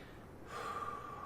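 A single deep inhalation during a guided breathing exercise, a soft airy draw that swells after a brief quiet start and holds steady to the end, close and alone with no talk.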